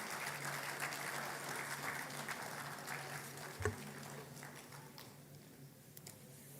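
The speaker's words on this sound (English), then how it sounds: "Let's give them a big hand of applause." An audience at an awards session of a university research conference applauds a winning team, a steady patter of clapping that fades gradually toward the end, with one sharp thump partway through.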